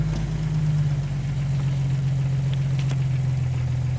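Jeep engine with an AX15 manual transmission running steadily in first gear while rolling forward, a constant low-pitched drone, close and loud, with no voices.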